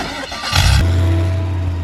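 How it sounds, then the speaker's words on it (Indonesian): A truck rolls up in a scene from the animated film Toy Story, a brief rush of engine noise building to a loud, steady low rumble that holds as the vehicle bears down close by. "Pas Woody mau marah ke Buzz, tiba-tiba ada truk datang yang ngebuat Woody hampir kelindes"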